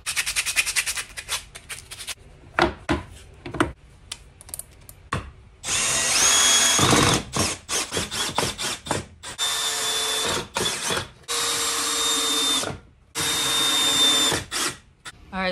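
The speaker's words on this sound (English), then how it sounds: "And then I'll start drilling stuff together" A power drill driving screws into wood whirs in repeated bursts of varying length, spinning up and stopping, with clicks and handling noises between runs.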